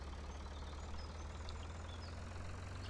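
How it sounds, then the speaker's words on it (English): Steady chainsaw drone from Farm Sim 2013, a continuous low engine-like hum at an even, faint level with no breaks, heard alone. "the chainsaw noise."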